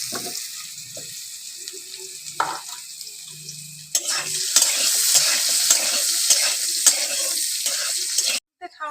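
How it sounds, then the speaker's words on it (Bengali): Cut potatoes fry in oil in a home kitchen. Light stirring and clatter come first, then a loud, steady sizzle swells midway and continues until it cuts off abruptly. "এই তেলে আমি আলু ভেজে নেব"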